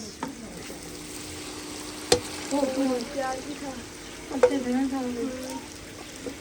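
Tomatoes fry in a hot pan with a steady, close sizzle, broken by two sharper bursts of spatter and stirring clatter partway through.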